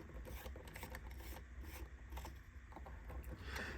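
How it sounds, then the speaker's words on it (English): A Philips 25-watt colored party light bulb is twisted into its socket. Faint, close rubbing and grinding clicks of glass and metal threads continue without pause, with no voices. "let's go ahead and put it into our socket here"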